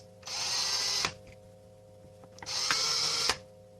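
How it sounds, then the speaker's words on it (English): A small power drill whirs in two short high-pitched bursts, boring holes into a plastic game controller shell, with a brief quiet pause between the runs. "Take the drill, put it in both holes."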